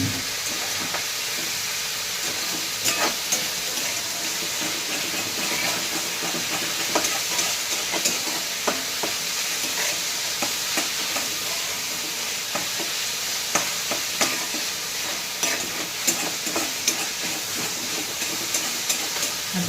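Bitter gourd stir-fries in a pan, a steady close hiss and sizzle running throughout with faint scraping and stirring clicks, and no talking.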